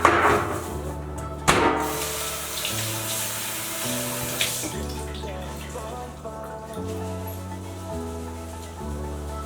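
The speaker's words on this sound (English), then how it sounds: "I'm gonna rinse it off real quick." Fresh cilantro is rinsed under a running kitchen tap, a steady hiss of flowing water with a couple of knocks, set against background music.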